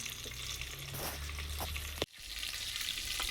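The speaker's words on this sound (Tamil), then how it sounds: "இப்போ மீனை பொரித்து ஆனத்தை காய்ச்ச போகிறோம்." Steady hot-oil sizzling and crackling of fish frying, with a brief clatter midway, continuing without any talking.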